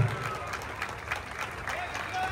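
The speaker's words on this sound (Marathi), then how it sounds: "टाळ्या जोरदार झाला पाहिजे" Crowd applause at an outdoor Dahi Handi festival gathering, a steady wash of many hands clapping at moderate distance, blended with crowd noise and some voices.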